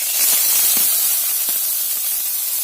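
Onion and garlic sauté in hot oil after mustard seeds are fried for a chickpea curry, giving a steady, close, broadband sizzling hiss with small crackles and no voice.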